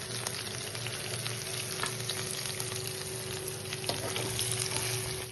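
Masala chicken shawaya pieces frying in a pan, a steady dense sizzle with soft crackles that holds constant throughout, close and alone without voices.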